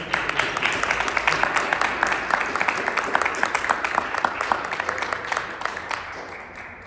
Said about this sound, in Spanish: Por favor, un fuerte aplauso para ellos.